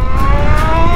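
A rider's voice imitates a motorcycle engine while riding an Energica Ego electric motorcycle: a short, loud, steady droning hum held for about a second, like a mock revving motor.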